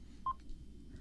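A single short telephone keypad tone beeps once, faint and alone over a low background hum.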